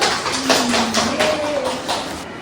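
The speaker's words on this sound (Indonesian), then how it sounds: "Berikan aplaus kepada kelompok 1." Students in a high school classroom give a group a brief round of applause, a dense patter of many hands clapping close by, with a voice briefly audible underneath.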